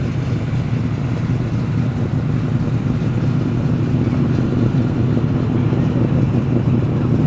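A Ford Mustang GT idles steadily at a car show, a loud, continuous low burble that holds even throughout with no voices over it.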